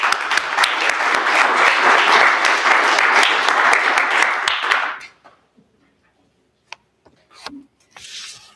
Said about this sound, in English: Let's give Paula a round of applause.